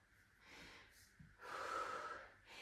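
Heavy breathing during a low-stance leg workout, a few close, audible breaths and gasping inhales and exhales with short pauses between them.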